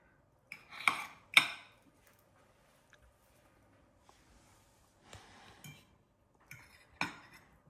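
A knife and other cutlery clink against a plate while Tuscan chicken is tasted, giving a few sharp, close clinks in quick pairs, separated by quiet gaps.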